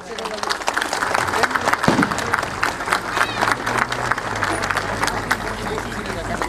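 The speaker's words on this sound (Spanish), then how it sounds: "Brindémosle un fuerte aplauso." A crowd applauds at an event welcoming a bishop outside Tenancingo cathedral, a dense wash of clapping with some cheering and babble that fades into lower crowd noise while people talk.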